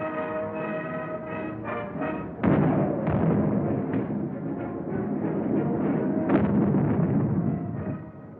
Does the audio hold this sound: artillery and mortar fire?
yes